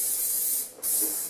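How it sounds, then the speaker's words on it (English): Two close bursts of hairspray hiss from an aerosol can aimed into hair roots while styling liberty spikes, separated by a brief gap. "Just spray the hairspray straight into the root to start with"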